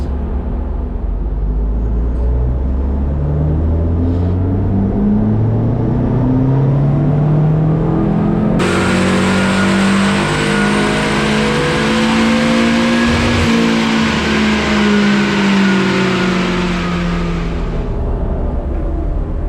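A Renault 5 GT Turbo engine in a van makes a power run on a dyno. It revs loudly and steadily up through the gears with rising pitch and a sharp jump in intensity midway, then winds down.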